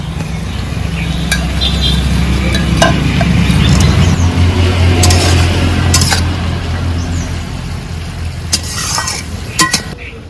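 Fried chanda fish slides into a pan of simmering potol curry with a little water just added, giving a steady loud sizzle and bubbling along with stirring scrapes and a few sharp metallic clinks.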